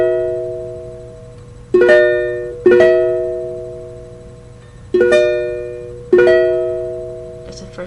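Ukulele sounding the first two chords of a song, four bright strums that each ring out and fade, played close with no voice over them.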